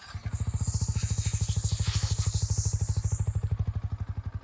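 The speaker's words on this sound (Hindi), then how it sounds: "मैं आपको सुना दे रहा हूँ इसका एग्जॉस्ट साउंड" A Yamaha R15M motorcycle idles with a steady, rapid exhaust putter, loud and close, a regular chugging pulse that holds even throughout with no voices over it.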